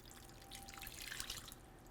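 Fresh lemon juice is poured, about a cup at first, in a Lebanese kitchen. A soft brief trickle and splash sounds close but quiet, with no talk.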